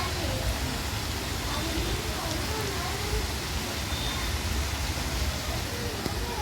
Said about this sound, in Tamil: இந்த சவுண்டு வந்து கேட்கும்போது உங்களுக்கே தெரிஞ்சிருக்கும் எவ்வளோ மழை பெஞ்சுன்னு சொல்லிட்டு.